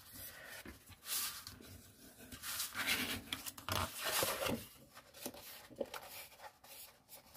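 Paper being creased along fold lines for a scrapbook album, heard as soft, close rubbing and scraping strokes in an irregular rhythm, faint and quiet with no talk.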